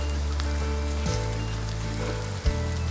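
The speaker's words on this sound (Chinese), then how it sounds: "下雨了" Steady rain patters on surfaces outdoors, a dense continuous hiss alongside low droning background hum, with no voices during the stretch.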